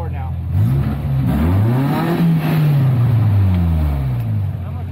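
Off-road vehicle engine revving hard in third gear while crawling over a big rock, its pitch rising and falling in long close surges that keep up throughout.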